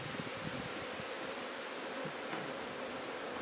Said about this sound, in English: it'll take a bit of time for the bees to get out of that feeder